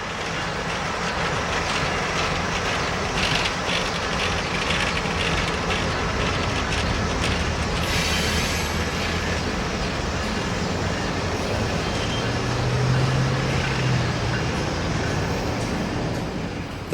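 A Norfolk Southern 10-car ceremonial passenger train of renovated vintage cars rolls past in Pennsylvania, a loud steady rumble with rhythmic wheel clatter and a brief squeal partway through.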